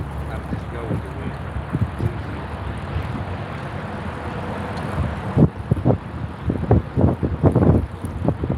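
Wind buffeting a microphone on a fishing boat, a constant rough roar with gusty thumps that grow stronger toward the end, under a low engine hum.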